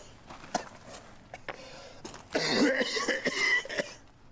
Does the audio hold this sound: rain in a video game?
no